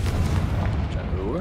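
A Confringo fire spell explodes in Hogwarts Legacy, a short, loud, deep booming blast with a rumbling tail lasting just over a second.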